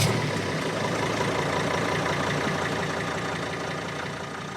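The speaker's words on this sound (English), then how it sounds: "We want to check if it starts easily, cap dents severity, smoke in the tailpipe, and how evenly it idles." A Mercedes Sprinter T1N van engine runs at a steady idle after starting, a dense, even, close-up drone holding constant throughout.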